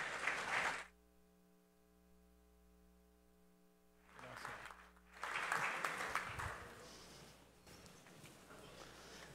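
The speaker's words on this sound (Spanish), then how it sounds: "Démosle un fuerte aplauso de bienvenida al doctor David." Applause from a forum audience welcoming a doctor to the stage, in two bursts separated by a quiet stretch with a steady tonal hum; a voice speaks briefly between them.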